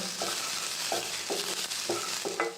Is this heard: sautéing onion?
yes